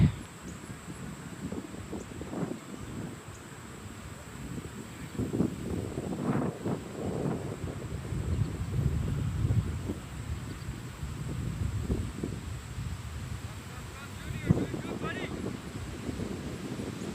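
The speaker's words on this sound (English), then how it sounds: "Lot of wind." Strong wind gusting across an outdoor cricket ground during a premier final, a broad steady rumble of buffeting microphone noise that swells and eases, with distant voices and commentary faintly underneath throughout.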